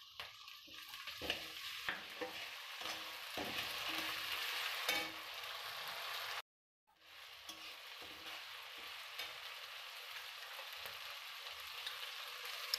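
Oil sizzles steadily in a pan as ingredients for mutton curry are fried and stirred, with a continuous hiss and clattering stirs, then a brief break before the sizzling resumes, close by and with no talking.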